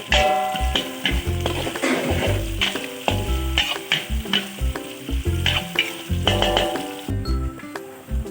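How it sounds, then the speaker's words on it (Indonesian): Offal fries in a pan with a faint crackling sizzle and occasional stirring clinks, largely buried under loud rhythmic background music. "Oke, lanjut goreng"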